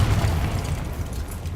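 The Confringo blasting spell detonates in the video game Hogwarts Legacy: a single heavy, low boom that rumbles on and slowly fades.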